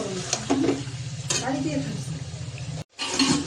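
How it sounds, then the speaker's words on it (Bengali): Meat sautéed (kosha) in a pan, sizzling steadily, with scraping stirring strokes and a brief cut near the end; a voice talks faintly in the background. "মাংস কষানো কমপ্লিট"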